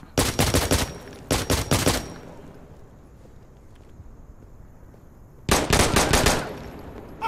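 Automatic weapon fire from a QBZ-97 rifle in the combat game Insurgency Sandstorm: two loud, rapid bursts close together, a lull of quieter ambience, then another sharp burst near the end.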